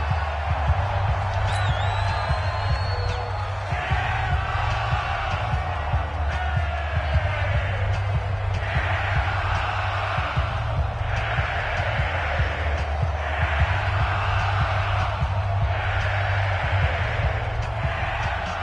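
Stadium crowd noise in a football video game swells before a big third down, a steady roar with rhythmic surges of cheering and chanting that rise and fall in repeated waves, with faint commentary voices mixed in.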